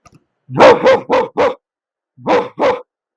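A mimicry artist vocally imitates a pet dog barking at visitors, producing six loud, sharp barks in two close groups of four and two with silence between.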